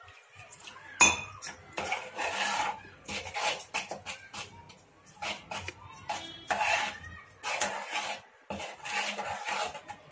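Rava dhokla batter being stirred in a bowl, with a utensil scraping and clinking against the sides in repeated close bursts over ten seconds, alone with no talk.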